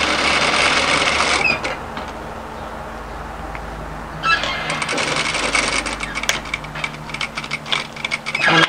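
A domestic sewing machine stitches a cardigan seam in two bursts of rapid, buzzing, continuous running, close and loud, with a quieter pause between them and no talk.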